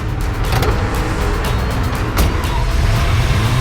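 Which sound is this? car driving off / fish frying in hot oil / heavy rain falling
car driving off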